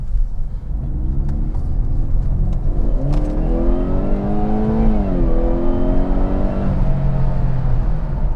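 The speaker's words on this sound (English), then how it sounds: "Did a quick little acceleration there, and it definitely does not sputter." A car pulls out onto the road and accelerates briefly, its mid-pitched engine revving up in a smooth rising whine, shifting once and settling into a steady, loud rumble without sputtering.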